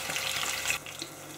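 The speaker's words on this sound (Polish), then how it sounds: "Pamiętajmy, że nie smażymy ryby zbyt długo, ponieważ mięso jest bardzo delikatne." Trout fillets frying in a pan on a gas stove give a broad, steady hiss that is loud at first, then drops to a softer sizzle partway through, with no voices over it.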